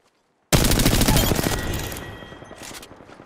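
Video game gunfire erupts suddenly as a loud, dense volley of rapid shots aimed at the player, then tapers off into a lingering, fading rattle of scattered fire.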